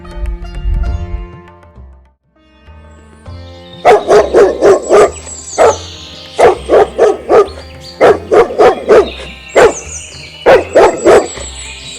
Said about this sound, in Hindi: अचानक एक कुत्ते के असामान्य भौंकने की आवाज ने उनका ध्यान खींच लिया।